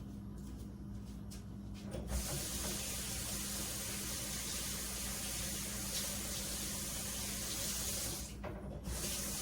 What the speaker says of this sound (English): I've got to rinse my hands off.